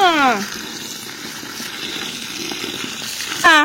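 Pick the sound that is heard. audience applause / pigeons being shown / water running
water running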